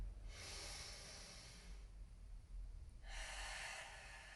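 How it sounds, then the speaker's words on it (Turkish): A deep costal breath during a hip, leg and cardio breathing exercise: a long, soft hissing inhale, a pause, then a second airy breath, close and quiet, with no talk. "biz buna derin kostal nefes diyoruz. Derin nefes alın."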